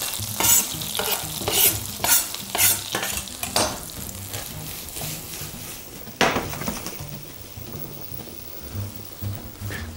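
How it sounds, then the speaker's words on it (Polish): Loud frying sizzle as onion hits a hot pan, crackling and spitting with bursts of stirring scrapes, then settling into a steady hiss. "O, słyszę, że nam patelnia już skwierczy. Dajemy naszą cebulę."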